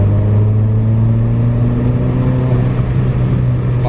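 Citroën DS3 1.6 THP at Stage 1 tune with a decat DS3 Racing exhaust, cruising with a steady droning engine hum heard from inside the closed cabin, continuous and even without talking.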